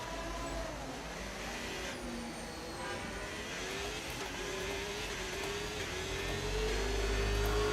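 Ferrari Formula 1 car in the F1 25 racing game at Mexico, its high-pitched engine whine sweeping up as it closes in, steady and loud over a continuous broadband rush of track and wind noise.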